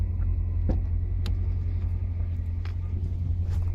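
Dodge 6.4 Scat Pack Hemi V8 driving on a cold evening, heard as a steady low rumble from inside the car, with a few faint clicks and taps over the drone.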